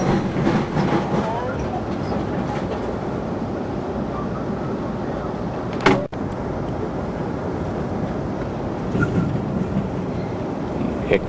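An Amtrak Capitol Limited passenger train rolls along the rails between South Bend, Indiana and Chicago, a steady rumbling ride with continuous track noise and faint rhythmic clatter.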